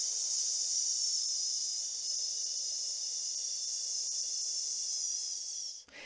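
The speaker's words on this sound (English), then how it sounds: "allow the breath to leave your body through a hiss sound like this" A long, steady breath pushed out as a sharp hiss through the teeth, close and continuous for about six seconds before it trails off, with no talk over it.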